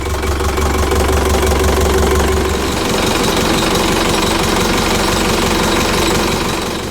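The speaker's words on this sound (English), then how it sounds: "So I'll just let the engine run for about 15 minutes" A Catalina 400 Mark II sailboat's engine idles steadily with a rough, knocking chug, loud and close, running on without pause.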